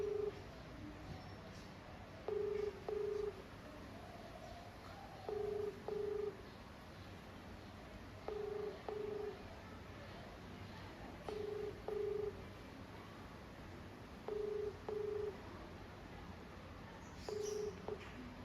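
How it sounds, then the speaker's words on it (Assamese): A phone call rings out, with a faint steady hiss under a repeating pair of short tonal beeps roughly every three seconds, regular and mid-loud throughout. "ফোনটো লগাই এতিয়া কি বা কয়"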